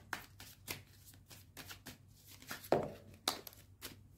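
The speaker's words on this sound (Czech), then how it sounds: "já si vezmu karty" A tarot deck being shuffled by hand for a reading, a close series of quick crisp card slaps and riffles repeating in an uneven rhythm, moderately loud with no speech.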